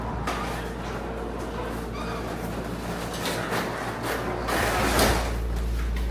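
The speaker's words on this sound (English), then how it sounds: "Let's get this garage door down and chill it off in here." A mechanical garage door rumbles and rattles along its track with a steady motor drone, louder toward the end as it finishes moving.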